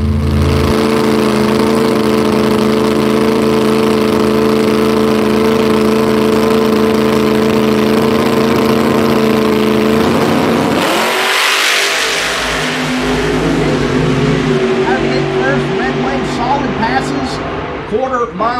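Nostalgia funny car drag racing engines at Keystone Raceway Park idle and roar loudly up close, then cut out briefly before rough, choppy bursts of revving return, with an announcer talking over them.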